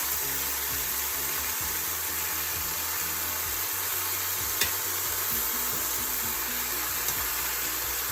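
Steady, crackling sizzle of oxtail meat frying in a hot pot, close and continuous, with occasional stirring scrapes.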